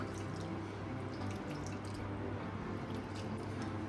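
Sago pearls are swished and rinsed in water at close range: soft drips, squishy sloshing and light splashes over a steady low hum.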